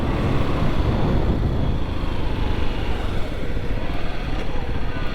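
A Kawasaki KLX 300 supermoto motorcycle being ridden, its engine a steady, dense drone under rushing wind noise, constant and close for the whole stretch.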